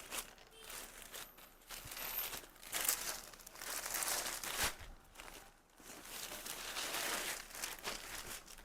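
Plastic packaging crinkles and rustles up close as a saree is unwrapped in a textile shop, with irregular crackling bursts that swell and fade over several seconds and no talking.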